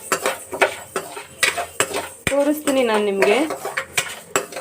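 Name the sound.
stirring dry fruits baby food mix in a pan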